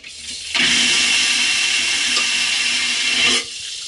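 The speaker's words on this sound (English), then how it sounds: "Here's what toilet flushes sound like." A cruise ship cabin toilet on the Carnival Fascination flushes with a loud, close vacuum rush lasting about three seconds, then cuts off sharply, leaving a quieter hum of background noise.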